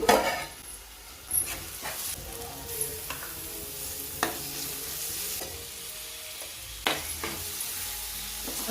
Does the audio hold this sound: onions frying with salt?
yes